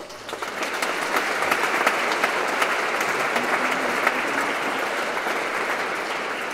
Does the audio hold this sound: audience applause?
yes